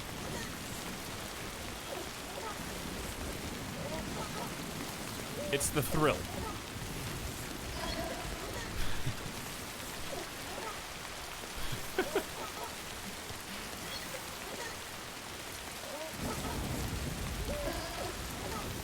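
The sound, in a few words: timefall rain in the video game Death Stranding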